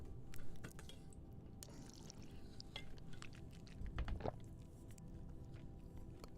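Water being poured, a faint liquid trickle with small clinks and drips scattered over a low background hum, swelling briefly near the middle.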